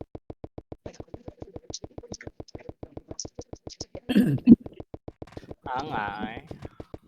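A few rough coughs and a throat-clearing rasp stand out over a steady, evenly spaced clopping rhythm that continues throughout.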